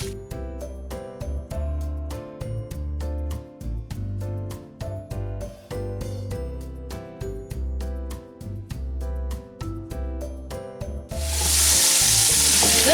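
Steady rhythmic tones play for most of the clip, then a loud hissing sizzle of chicken frying in a hot pan while being stirred takes over at the end.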